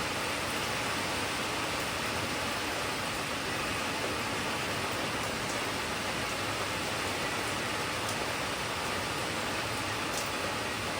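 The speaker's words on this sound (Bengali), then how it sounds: "কত জোরে জোরে বৃষ্টি পড়ছে।" Heavy rain pours down outside a home, a steady broadband wash of falling water that holds at a constant level throughout with no voices over it.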